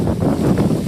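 Steady wind buffeting a microphone, a continuous low rumbling roar with no pauses, loud and close throughout.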